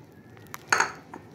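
Desiccated coconut being added to a bowl with metal utensils while making coconut barfi: a few light clinks and scrapes of a spoon against the bowl, close and fairly quiet, with one brighter clatter in the middle.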